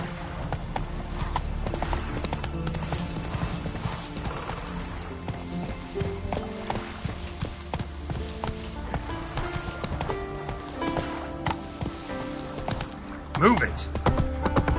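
Hooves of Geralt's horse Roach clip-clop steadily in The Witcher 3, a continuous trotting patter running throughout beneath in-game speech and background game sound.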